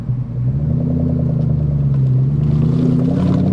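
A 1998 Ford SVT Cobra accelerates with a deep, steady engine rumble that builds smoothly and loudly from inside the car, with no talking.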